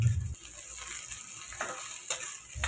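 Onion and garlic fry in a pan with a soft, moderate sizzle, broken by a few brief clicks and stirring scrapes.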